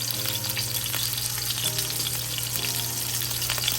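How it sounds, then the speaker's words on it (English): A snapper fish fillet sears in hot oil with a loud, close, continuous sizzle, crackling evenly with slight stirring or pressing noises underneath, no voices. "All right, so now the oil is hot. We're gonna add our fish, press it down for about 20 seconds."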